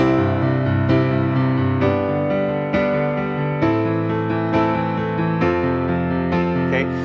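Piano block chords struck together in half notes at a slow, even pace, each one ringing out before the next, played alone and clearly.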